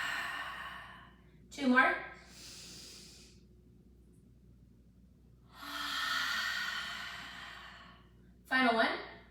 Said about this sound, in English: as you exhale, we're going to open our mouths and do a long continuous exhale